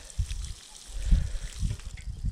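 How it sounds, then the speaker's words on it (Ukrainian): Biohumus solution poured around tomato bushes in an open-ground garden, the liquid splashing and soaking into dry soil in a few uneven gushes, close by with no talk. "так будемо проливати кожен кущ"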